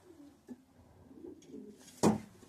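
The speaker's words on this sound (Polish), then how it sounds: "To jest fest samczyk, to jest dopiero roczny gołąbek" A one-year-old male pigeon coos in soft low throaty bursts close by, with a louder flutter or scuffle near the end and quiet loft noise around, no one talking.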